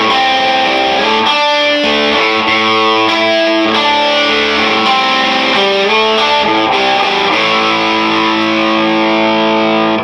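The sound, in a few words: Fender Telecaster Player HH electric guitar, distortion, bridge pickup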